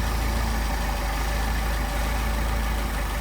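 A Mercedes 190SL engine idles on Solex carburetors during carburetor adjustment, producing a loud, steady, continuous rumble throughout.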